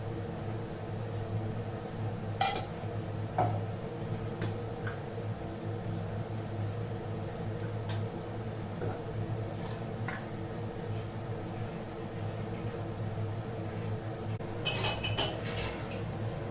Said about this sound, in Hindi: मैं नाश्ते का बर्तन धो रही हूँ